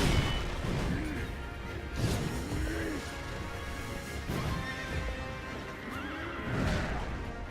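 Horses whinny repeatedly in the video game Sekiro over a dense, noisy background of thuds and clashes, the neighs rising and falling every couple of seconds.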